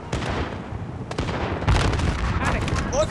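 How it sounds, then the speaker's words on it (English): A grenade blast erupts amid ongoing gunfire in the Call of Duty: Modern Warfare video game, a loud broadband burst landing mid-clip over dense continuous shooting and battle noise, with voices talking throughout. "God, nice grenade, dude."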